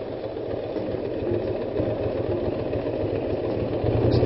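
Motorbike engine idling after pulling over by a café on a ride through Rome, a steady close low rumble with a faint rhythmic throb and no talk.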